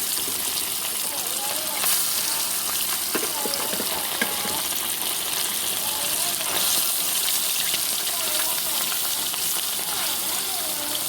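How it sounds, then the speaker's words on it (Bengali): Fish frying in hot oil gives a steady, dense sizzle that continues throughout at a constant level, with a voice speaking faintly over the crackle. "চলো, তেল গরম হয়ে গেছে, এর মধ্যে এবার মাছগুলো দিয়ে দেবো।"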